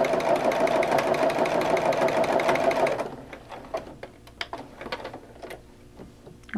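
An embroidery sewing machine stitching fast in a steady mechanical whir for a few seconds, then stopping, followed by scattered clicks and taps from the machine, close up with no talking.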